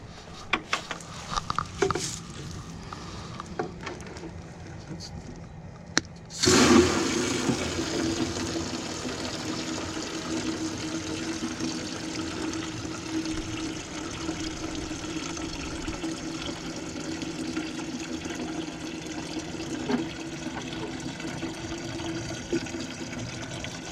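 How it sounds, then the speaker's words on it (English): A watering can refilled with water in a garden: a few scattered knocks, then water gushes in abruptly and keeps pouring steadily and loudly, close by, with no talking. "my can is out, so I gotta go over here and put some more water in"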